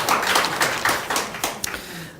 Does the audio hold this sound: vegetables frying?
no